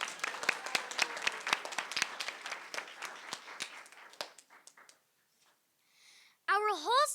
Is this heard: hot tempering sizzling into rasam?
no